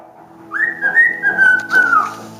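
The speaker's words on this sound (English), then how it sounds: "don't just whistle and be boring" A cockatiel gives one clear, sustained whistle lasting about two seconds, close and loud with a slight wavering pitch, and no talking over it.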